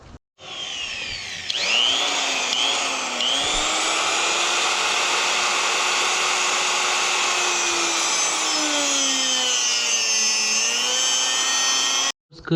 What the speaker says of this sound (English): Cut was disaster, and that's because this grinder is a little bit too small